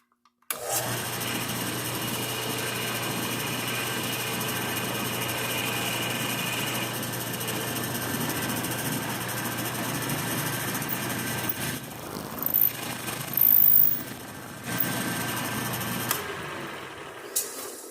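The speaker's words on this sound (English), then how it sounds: "once I know it's good, I'm going to drill" Steady motor whine of a drill running continuously, loud and close, with a few brief changes in load toward the end.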